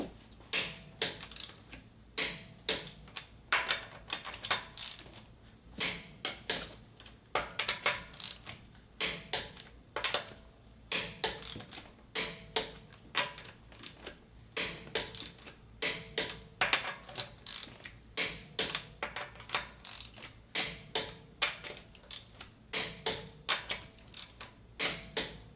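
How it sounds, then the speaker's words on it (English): A torque wrench ratchets lug nuts to spec on a Honda Pilot, Odyssey or Ridgeline with the 3.5L engine, its repeated clicking bursts coming in a steady rhythm, close and fairly clear, with no talk. "So now I'm going to torque the lug nuts."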